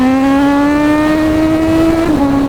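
A 1000cc-plus motorcycle accelerates at near full throttle in third gear, a loud, close engine wail climbing steadily in pitch, then a brief dip at a gear shift near the end before it pulls on.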